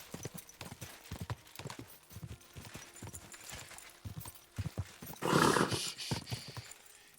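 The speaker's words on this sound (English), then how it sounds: "Easy, good horse." Horse hooves clip-clop in the video game Kingdom Come Deliverance 2, a steady rhythmic series of thuds at moderate distance, joined near the end by a short burst of louder noise.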